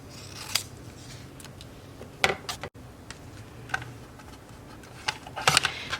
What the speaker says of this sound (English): This is handmade paper, and it doesn't do so well in a cutter, so we'll just cut it by hand like this.